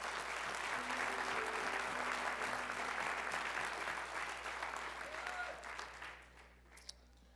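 A church congregation claps during a Spanish-language sermon, a dense, continuous round of applause that gradually thins and fades out over the last seconds, with faint voices and a sustained tone beneath.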